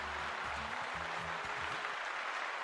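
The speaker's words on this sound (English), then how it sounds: "So let's little round of applause to everybody for participating." Applause for stream participants comes as a dense, even wash of clapping under soft background music.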